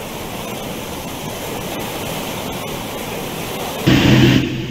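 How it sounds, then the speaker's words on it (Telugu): Flood water rushes through the Akeru stream after a cyclone, roaring steadily and continuously, growing briefly louder near the end. "వరద నీరు వాగులోకి పోటెత్తడంతో ప్రమాదకరంగా నీటి ప్రవాహం కొనసాగుతోంది"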